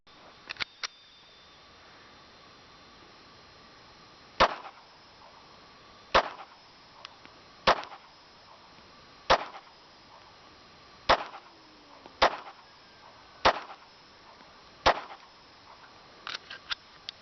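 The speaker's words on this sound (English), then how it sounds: "Let's try that with the Makarov. Let's go for 16 rounds." Bulgarian Makarov pistol firing a string of single shots, eight sharp reports spaced roughly a second or two apart, each followed by a brief echo, with a few fainter pops at the start and end.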